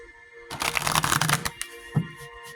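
Tarot cards being shuffled by hand in a quick, dense riffling burst of about a second, ending with a single soft tap as the deck settles; close and fairly quiet, with no talking.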